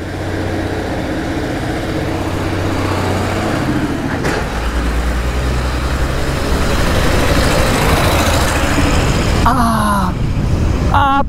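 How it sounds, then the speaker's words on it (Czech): A motorcycle engine running rough with one cylinder misfiring, a loud uneven mechanical drone heard close with a sharp burst partway through, with people talking over it. "Teda nezní moc dobře ten motor."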